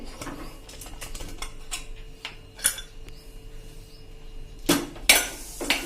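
Lid of a pressure cooker being opened after its pressure is released while cooking Swaminarayan temple-style khichdi, with light metallic clinks and ticks followed by two louder, sharper clatters near the end.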